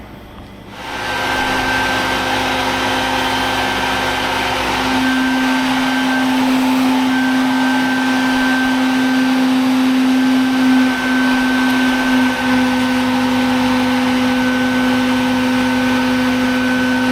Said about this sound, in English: Let's get this vac set up and going.